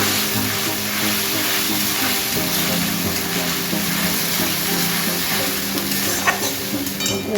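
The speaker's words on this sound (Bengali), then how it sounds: "তো পেঁয়াজটা একটু ভাজা ভাজা হবে।" Five onions fry in a pan for chicken rezala, a steady close sizzle with occasional stirring scrapes and a faint clink near the end, without any speech.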